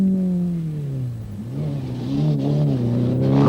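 A 1992 Proton Saga 4WD turbo Group S rally car accelerates hard on an open special stage, its engine note dipping between gear changes, then rising again, loud and fairly close with no talking.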